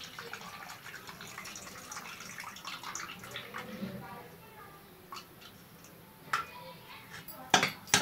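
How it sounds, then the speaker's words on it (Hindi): Curd water pours and splashes softly into a bowl of semolina for dosa batter, a quiet trickling with a few clinks and knocks toward the end. "इसमें मैं दही का पानी डाल रही हूँ।"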